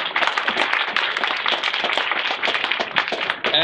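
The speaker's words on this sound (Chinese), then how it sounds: "俾啲掌聲佢哋" Audience applause at a toy fair press conference for an airsoft gun maker in Hong Kong, dense rapid clapping from a crowd, steady and fairly loud throughout with no voices.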